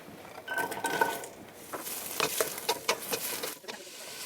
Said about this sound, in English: So you can put the onions in and we'll start to stir it around.